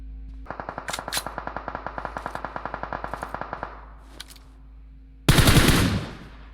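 A machine gun fires in PUBG Mobile: a steady, rapid string of loud shots for about three seconds, a pause, then one more harsh, dense burst.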